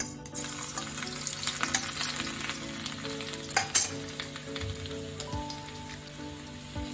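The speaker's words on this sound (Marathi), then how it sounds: "आता याला आपण फोडणी तयार करून घेऊ" Phodni, the tempering for a toor dal kofta curry, sizzles loudly in hot oil with a dense crackle and scattered pops that slowly settle, and no voices.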